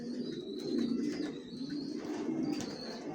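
Racing pigeons, a breed kept for short, middle and long races, give soft, low, rolling coos close by, repeating in throaty bursts with a few faint chirps in the background.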